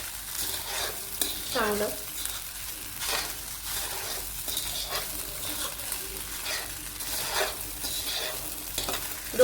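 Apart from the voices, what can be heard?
stirring sabudana khichdi mixture in a pan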